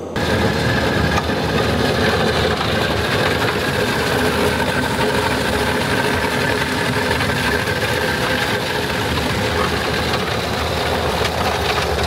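Diesel engine of a new Bobcat T86 compact track loader running steadily at a dense, loud rumbling idle, close and continuous throughout on a muddy site in Ireland.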